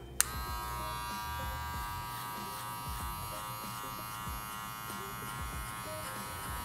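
Electric hair clippers with the guard lever open blending a low fade, a steady close mechanical buzz with a sharp click at the start and faint contact variations as the blades work through hair.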